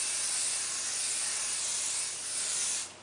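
An aerosol spray can hisses steadily onto insulated lunch bag material, a continuous close airy spray lasting about three seconds before tapering off at the end.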